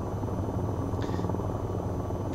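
Helicopter rotor and engine in a flight simulator game during a controlled descent toward a helipad, a steady dense low drone with constant roar, loud and continuous without pauses.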